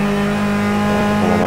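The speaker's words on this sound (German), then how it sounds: "das ist dieses Rausbeschleunigen, gerade aus der zweiten Kurve raus, das ist wirklich heavy" A race car accelerates out of the second corner, its engine droning loud and steady with a rising pitch toward the end.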